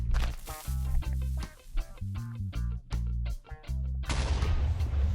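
A series of deep, booming video-game TNT explosions hit in rapid succession, with heavy low rumbles between them and a final noisy blast at the end.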